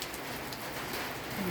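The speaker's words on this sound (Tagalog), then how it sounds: "Umuulan po sa Pinas." Heavy rain drumming on a house roof in the Philippines, a steady, dense hiss of falling water heard alone and fairly faint, with no talk.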